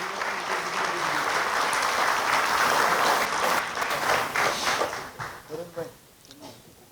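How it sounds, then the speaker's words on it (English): Audience applause at an executive round table on HR, a dense sustained clapping from a room full of people that tapers off near the end, with a voice emerging as it fades. "Can we have a round of applause, everybody, please?"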